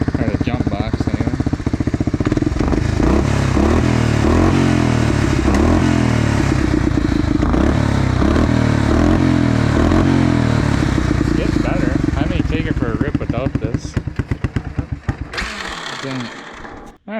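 A Honda FourTrax ATV engine idles steadily and loudly with a rough, rapid mechanical chatter, running continuously before sputtering and cutting out near the end.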